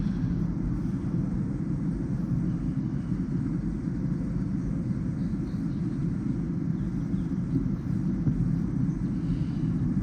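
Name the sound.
airplane flying overhead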